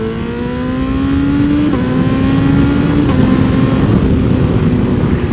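A Ducati Streetfighter motorcycle engine revs loud and close, a sustained throaty roar that rises in pitch then dips and holds steady.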